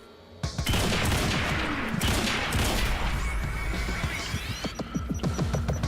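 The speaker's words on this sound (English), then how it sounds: "Taking a lot of bullets there." Dense, continuous gunfire with rapid impacts in the video game Quantum Break, loud and sustained throughout with a low throbbing hum beneath the bursts.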